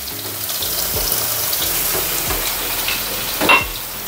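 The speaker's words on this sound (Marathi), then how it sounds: "चला तेल टाकलेलं आहे," Garlic dropped into hot oil in a home kitchen, with a close, steady sizzle and a few soft stirring knocks, no voices.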